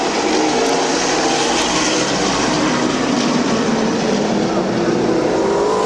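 Race cars roar around an oval at Midvale Speedway, a dense, loud, unbroken engine howl from several cars at once, with a commentator's voice faintly mixed in.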